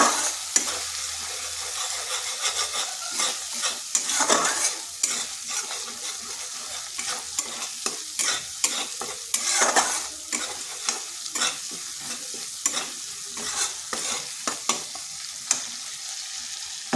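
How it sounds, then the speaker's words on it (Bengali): Coriander and chili powder spice paste being sautéed in a pan, a steady close sizzle broken by frequent scraping stirs and spoon knocks throughout, with no voices. "মশলাটা বেশ কিছুক্ষণ কষে নেব।"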